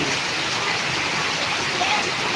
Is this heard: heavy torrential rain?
yes